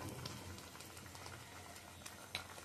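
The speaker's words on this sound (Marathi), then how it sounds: "चांगली उकळी आणायची याला." Palak paneer gravy with garam masala and cream bubbling at a boil in a pan, a soft continuous simmer with occasional pops, faint and close, with no talk.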